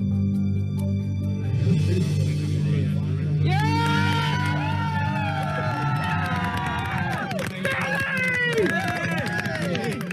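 A crowd cheers and shouts as an autonomous robot vehicle, Stanley, nears the finish of a long desert race, loud and continuous with many voices, rising sharply partway through into a sustained roar with whistles and yells.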